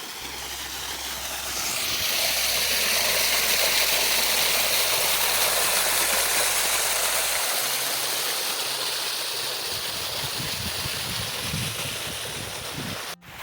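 Water pours steadily from an irrigation pump set into a farm field, a loud continuous rushing flow close by, with a low rumble underneath in the first half.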